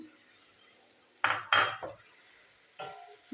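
Spoon scraping and clanking against a pan while spice masala is stirred over a gas flame for ridge gourd and prawn curry, a few short metallic strokes separated by quiet low hiss.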